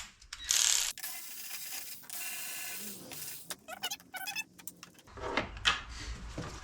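A hand ratchet clicks in short, quick bursts while 10mm bolts come off the rocker cover of a BMW E38 with an M52TU engine, close up, with small metallic handling noises between the bursts.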